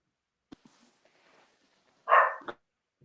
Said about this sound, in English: you can hear dogs going in the background